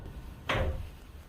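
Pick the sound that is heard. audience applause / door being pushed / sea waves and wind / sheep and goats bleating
door being pushed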